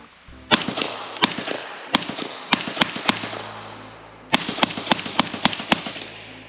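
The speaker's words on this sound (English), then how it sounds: "we're going to cut into a video of this 9-inch CZ Bren 2 at night, and I'm mag dumping" A 9-inch CZ Bren 2 fired at night through a Deadair Sandman K suppressor fires sharp, loud cracks in two quick strings of shots, each shot distinct, with a short pause between the bursts.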